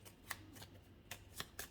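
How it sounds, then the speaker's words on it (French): Playing cards being shuffled and a card drawn from a deck for an astrology reading, heard as five quick, crisp riffling bursts close by, with no talking. "On va essayer de tirer notre carte pour voir ce qu'on nous dit."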